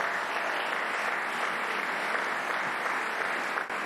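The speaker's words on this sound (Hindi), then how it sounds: "उस आदमी के लिए तालियां तो बनती हैं" An audience applauds a speaker in a steady, dense wash of clapping at moderate volume, sustained for several seconds without a break and with no talk over it.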